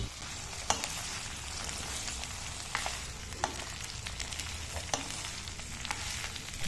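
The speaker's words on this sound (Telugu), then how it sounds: "ఇప్పుడు ఈ పోపులో ఈ మొత్తం కాబులి శనగల్ని వేసేసుకోవాలండి వేసేసుకున్న తర్వాత మంచిగా కలుపుకోవాలి" Kabuli chickpeas sizzle softly in a hot spiced oil tempering while being mixed, a low fry hiss with a few sharp spoon clicks and scrapes against the pan.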